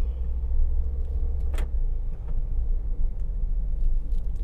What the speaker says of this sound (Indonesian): Ini saya jalanin, mesinnya masih responsif, masih enak.